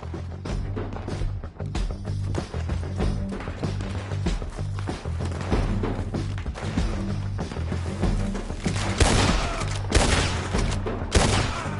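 Gunfire erupts in the video game Red Dead Redemption 2, a dense, continuous fusillade of sharp shots and impacts layered over game music and background effects.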